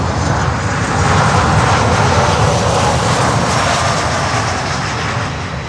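A cargo aircraft at Miami airport roars steadily with a loud, close jet engine rumble that holds strong throughout and eases slightly at the end.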